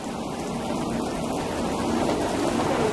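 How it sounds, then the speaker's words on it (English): Heavy rain from Hurricane Gustav in central Louisiana roars in a dense, continuous downpour with low wind rumble, growing slightly louder toward the end. "When the rain picks up."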